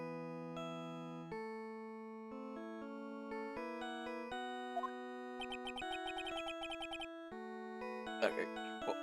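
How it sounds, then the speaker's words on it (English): A phone ringtone playing an 8-bit chiptune version of Goto's theme, bright square-wave melody with bouncing bass notes and quick arpeggios, steady and continuous from start to finish. "Just a little 8-bit theme of Goto's theme."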